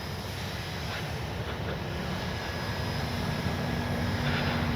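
A Dynam Beaver V2 RC model airplane flies with its electric motor running, heard as a steady distant drone mixed with strong wind noise outdoors.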